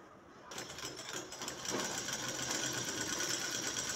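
A sewing machine stitches along the edge of a shirt pocket, a steady close mechanical whir that starts after a brief pause and grows louder, running alone without voices.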